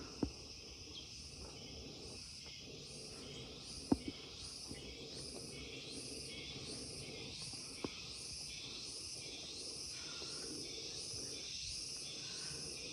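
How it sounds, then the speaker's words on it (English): A constant pulsing chorus of cicadas on Penang Hill, rhythmic waves of buzzing throughout, with a few faint clicks and no talking. "There's a constant chorus of cicadas or insects of some kind"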